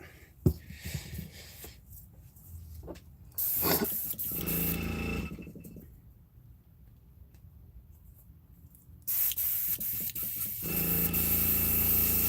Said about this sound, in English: My airbrush keeps messing up on me.